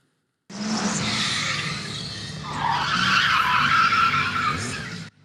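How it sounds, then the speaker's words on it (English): Race cars skid at high speed in a maneuverability competition, producing loud, sustained tire squeals that waver and rise in pitch over engine roar for about five seconds before cutting off. "The roar of engines and the smell of burnt tires, racers compete in the skill of maneuverability at high speed."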